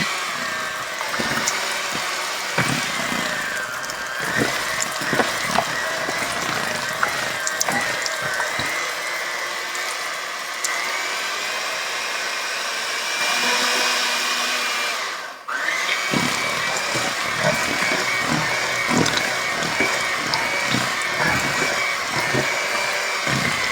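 An electric mixer whips oatmeal raisin cookie dough with softened butter. It gives a steady, loud motor whir that runs almost the whole time, with one brief dip before it resumes at full speed.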